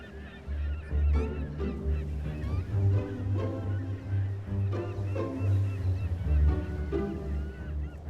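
Pelicans at breeding lakes inland, a dense flock giving repeated honking, grunting calls in overlapping bursts, loud and near, with no voices over them.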